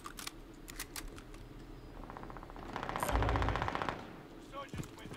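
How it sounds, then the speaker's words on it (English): Bursts of video game gunfire from an enemy shooting through a wall, with a sustained loud rattling volley in the middle following scattered shots, under faint talk. "he's shooting me through the wall!"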